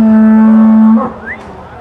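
A cow at a dairy farm in Pabna lets out one loud, long moo that breaks off partway, with a faint rising call behind it and quieter farmyard sound after.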